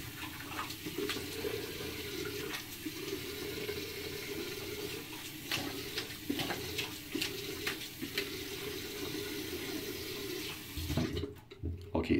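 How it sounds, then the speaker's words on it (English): Tap water runs steadily for about eleven seconds while shaving lather is rinsed off, a constant close splashing rush that cuts out briefly at the end. "So I'll go ahead and rinse off and lather up."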